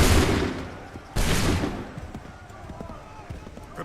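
Soldiers fire a volley of muskets in Assassin's Creed 3, two loud bursts of gunfire with a softer crackle trailing off, shouted orders heard in the background.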